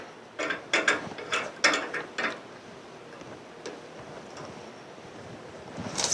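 The clamp on a screen printing press is tightened down, giving a quick run of about six ratcheting mechanical clicks close up, then a quieter pause with a couple of faint knocks.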